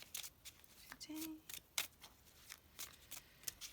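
Tarot cards riffle and slap in quick bursts of crisp shuffling, close and fairly quiet, with soft pauses between.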